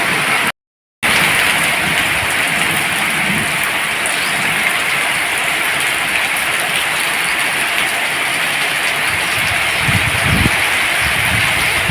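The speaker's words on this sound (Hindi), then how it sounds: "ये देखिए कितना भयंकर सा मौसम बन चुका है और बहुत तेज़ बारिश हो रही थी।" Heavy rain falling in a village during stormy weather, a dense, steady hiss that fills the whole stretch with no voices, broken by one brief gap of silence near the start.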